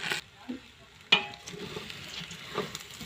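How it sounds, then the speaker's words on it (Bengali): Food frying in a pan is stirred, with soft sizzling underneath and a few scraping clatters of a utensil against the pan, one sharp knock standing out, close and alone without talk. "আমি এখন এটাকে একটু ভালোভাবে নাড়াচাড়া দিব।"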